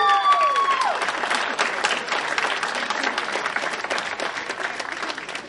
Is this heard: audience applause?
yes